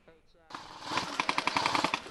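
An airsoft gun fires a quick burst of about ten rapid shots during outdoor gameplay, loud and close, coming right after a brief quiet moment.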